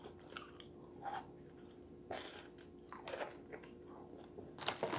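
Close, quiet chewing of an Oreo cookie, soft crunchy bites coming in several bursts with short pauses between them.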